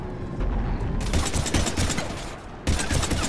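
Sustained bursts of gunfire in the Mass Effect video game, dense and continuous with a brief lull near the end before firing resumes, loud and close with no talk.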